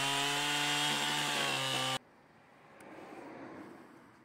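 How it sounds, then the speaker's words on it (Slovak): An ECHO CS-7310SX chainsaw engine roars loud and steady while biting into wood, then cuts off abruptly, leaving a quieter rustling and a faint rising scrape. "Píla vlastnou hmotnosťou sa plynulo zarezáva do dreva."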